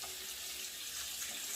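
Cold tap water runs steadily into a kitchen sink to cool blanched green peppers, a brief, even hiss with no talk.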